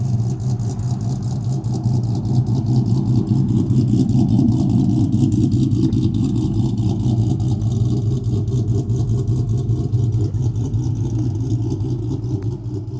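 A 5.7 liter V8 Dodge Charger pursuit car with a carbon exhaust, rumbling loudly and steadily close by with a deep pulsing note and mild rev swells, no voices.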